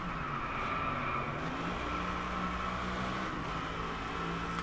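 A Mercedes SLS AMG Black Series V8 roars steadily on a Japan circuit in Driveclub, a continuous engine drone with mild pitch shifts and a brief tire skid, close and loud with no voices.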